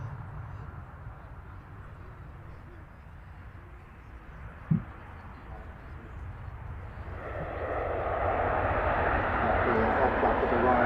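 An airliner engine roars at Manchester Airport as a steady broadband rumble. It swells louder toward the end, with one brief knock partway through.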